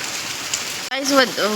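Heavy rain with wind pours down in a loud, steady wash. After a brief dropout, a voice speaks over the downpour.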